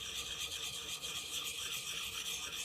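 A KME sharpening stone rubs along an axe edge in steady, quiet rasping strokes, a close continuous scraping with a soft rhythmic pulse.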